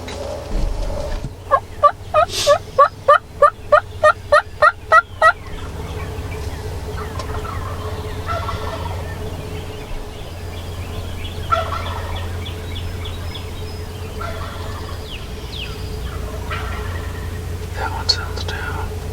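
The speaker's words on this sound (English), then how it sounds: "They're just standing there gobbling at her, gobbling like crazy." Wild turkeys gobble during spring turkey season, a rapid burst of about ten sharp, evenly spaced gobbles up close, then scattered fainter gobbles and calls farther off over steady outdoor background and hushed whispering.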